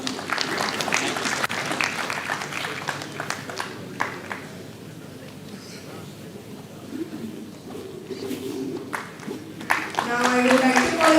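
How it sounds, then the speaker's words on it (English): Audience applause at an academic panel discussion session, clapping that starts loud, fades to a scattered patter and swells again at the end, with a voice speaking over it at times. "Dr. Pradeep Kumar, give a huge round of applause."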